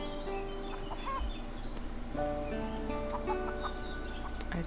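Hens in the farming game Everdream Valley cluck in short, repeated calls over a steady ambient background, fairly close and moderately loud with no talking.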